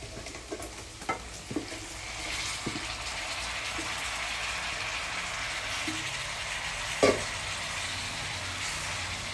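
Shrimp frying in a pan with butter, garlic and onion give off a soft, steady sizzle, with a few light clinks and stirring knocks scattered throughout.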